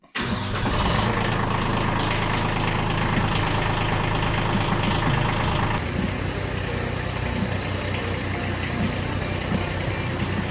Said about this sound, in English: let's get that tractor out, and let's get that tree out